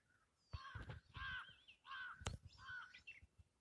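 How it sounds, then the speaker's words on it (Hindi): Birds call and caw in a village at dusk, a series of harsh crow-like cries in short bursts of about one to two seconds, fairly close and clear over a quiet background, with no talking. "देखिए किस तरह से जो है पक्षी चहचहा रहे हैं"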